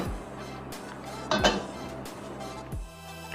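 Metal pots and utensils clink and clatter while kachnar mutton curry (kachnar gosht) is dished out in a home kitchen, with a few distinct knocks and a brighter scrape in the middle, close and fairly quiet.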